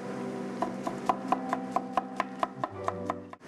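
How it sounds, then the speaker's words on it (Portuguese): A knife chops three garlic cloves on a board in about a dozen evenly spaced, crisp taps over a steady kitchen hum, close and clear, with no talk. "Cortamos e picamos já os três dentes de alho."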